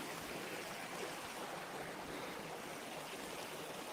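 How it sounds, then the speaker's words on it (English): Water runs steadily in a wild stream, a dense continuous rush with no breaks or voices, heard close and at an even level. "I found water."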